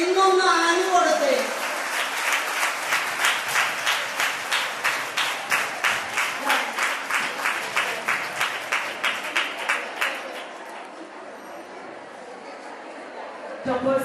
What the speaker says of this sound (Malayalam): നമ്മുടെ ടോപ്പേഴ്സിന് നമുക്ക് അന്ന് കൊടുക്കാൻ പറ്റാത്ത കയ്യടി ഇന്നൊന്ന് ആഞ്ഞു കൊടുത്തേ.